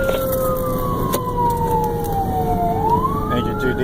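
A McMinn County, Tennessee fire engine responding to a call in Niota sounds a loud wailing siren that sweeps down and back up in pitch, with truck engine noise underneath.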